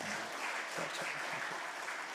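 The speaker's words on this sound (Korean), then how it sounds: "이 찬양대 하나님께 영광의 박수를 돌려드리기 바랍니다" A church congregation applauds the choir during a Sunday morning service in Incheon, a dense, even patter of many hands, moderately distant and steady throughout.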